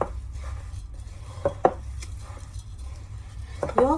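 Oat muffin batter, made without sugar, flour or butter, is worked in a bowl. Low scraping runs throughout, with a few sharp clinks of utensil against bowl near the start and a clatter at the end.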